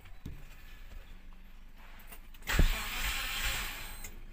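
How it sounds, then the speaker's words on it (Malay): Proton Perdana V6 with a broken timing belt, cranking with its electric fuel pump running: a quiet idle hum gives way to a loud, sudden crank that continues as a steady churning whir without catching. "sekarang caranya kita coba on kunci, dengar bunyi electric pump nih"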